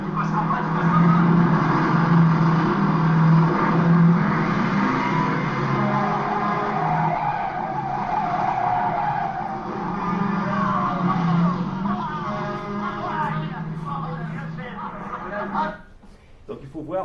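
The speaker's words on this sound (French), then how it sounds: "cette course-poursuite entre le Brockway et la Cadillac Coupe de Ville de Niro" A film car chase pits a Brockway truck against a Cadillac Coupe de Ville: engines roar and tires skid in sustained loud bursts, mixed with dialogue and dramatic sound, fading near the end.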